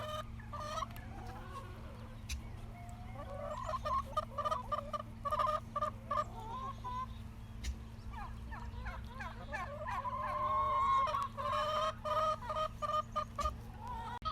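Farm chickens cluck and chatter on and off over a steady low hum during morning feeding, with a few louder bursts of clucking close by.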